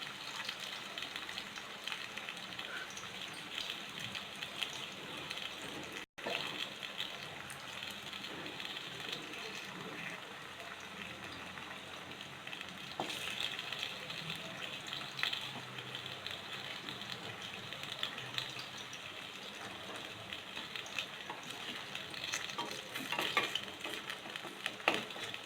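Sliced bitter gourd frying in a pan gives off a steady, dense sizzle that runs throughout, broken by a brief dropout and scattered light scrapes of stirring, with no talking.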